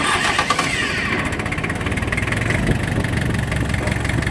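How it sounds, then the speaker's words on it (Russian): Key-started engine of a compact farm tractor with 854 hours, still cold, cranks briefly and catches, then settles into a loud, steady, even idle close by, with no speech. "Трактор завелся довольно-таки легко"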